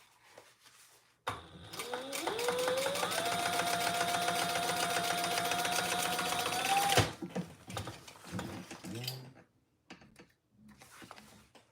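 A sewing machine top-stitches a trifold wallet, running in one sustained burst of rapid, close needle clatter that rises briefly in pitch before settling, then stopping abruptly, followed by scattered handling noises.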